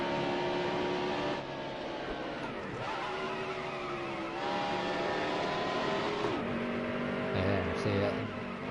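A race car engine in a manual-shift racing game at New Hampshire, droning loudly and steadily, its pitch rising under load and dropping sharply at each gear change.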